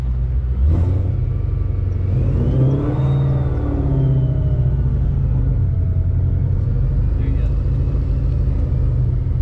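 Whipple-supercharged 830-horsepower Ford Mustang GT with a manual clutch, its engine rumbling steadily up close from inside the car with brief revs and a faint supercharger whine, under light talk.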